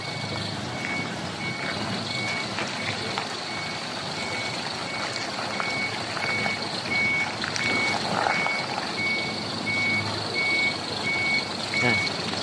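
A truck's reverse alarm beeps steadily in a regular rhythm over a low engine rumble and outdoor noise, with faint voices in the background.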